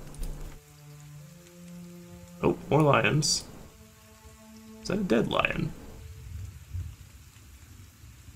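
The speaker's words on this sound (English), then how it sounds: "Holy crap, storms." Rainstorm in the Pillars of Eternity video game, a steady wash of rain under a person who speaks in two short bursts.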